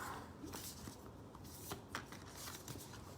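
Oversized oracle cards are shuffled quietly, giving soft scattered slides and light taps spread across a few seconds, faint and close, with a low background hiss.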